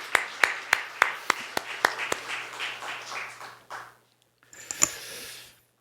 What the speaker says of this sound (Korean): 하나님 앞에 영광의 박수 크게 올려드리겠습니다.